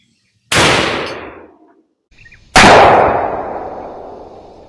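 A 6.5 Grendel carbine fires a 123 grain bullet in two loud, sharp shots about two seconds apart. Each shot is followed by a long ringing decay outdoors, and there is no talk.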